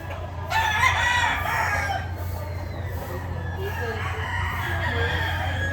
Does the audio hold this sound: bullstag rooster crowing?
yes